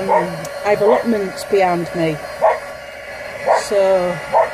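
A pet dog barks and yips in short bursts indoors, the barks scattered through steady conversational speech from a woman nearby.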